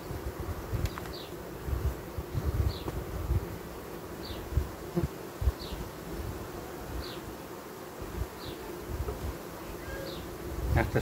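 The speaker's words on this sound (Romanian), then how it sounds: "s-au liniștit și albinuțile astea care îngrijeau puietul" Honeybees buzz steadily in an open hive while brood-tending young bees settle after two colonies are united, a continuous low drone with faint periodic ticks and handling noises throughout.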